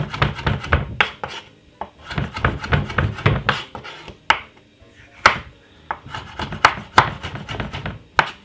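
Close, loud knife chopping on a board cuts food into very small pieces, with rapid bursts of sharp taps broken by brief pauses and a few single heavier strikes.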